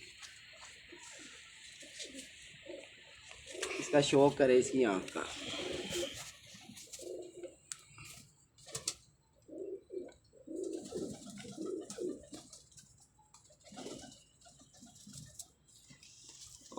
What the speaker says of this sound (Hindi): ये मेरी जौनसरी कबूतर